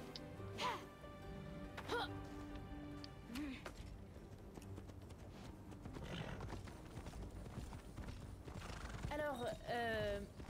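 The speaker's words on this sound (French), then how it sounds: "On va prendre le cheval." Horse in the video game Immortals Fenyx Rising, neighing and whinnying several times with clip-clop hoofbeats over busy game music and effects, fairly loud and near.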